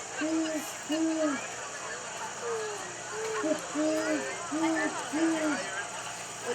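A person at an outdoor fall fair imitates a great horned owl with his voice, giving a steady series of about seven low, rounded hoots over a constant crowd and fairground hum.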